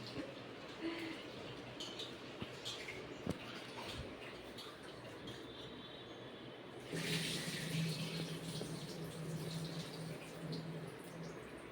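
Water runs from a kitchen tap for cooking, a steady soft stream that swells louder partway through, with faint clinks in the background and no talking.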